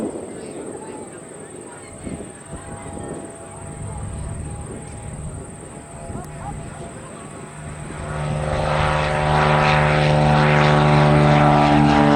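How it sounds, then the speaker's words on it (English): Propeller airplane at LaPorte Airport during an air fair, taking off from the runway, its engine drone building from a moderate rumble to a loud, close, steady roar in the second half. "got a shot of it, leaving the runway and taking off towards who knows where"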